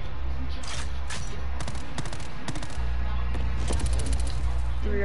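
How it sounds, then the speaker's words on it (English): Rapid bursts of submachine gun fire from a video game, firing in three-round burst mode with a fast cycle rate, loud and repeated across the clip with brief gaps between bursts and a voice talking underneath. "Three on burst, submachine gun, fast cycle rate."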